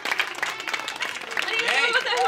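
An audience at an outdoor live concert in a park in Niimi claps warmly, a short, steady wash of close applause with some crowd murmur and a voice rising over it toward the end.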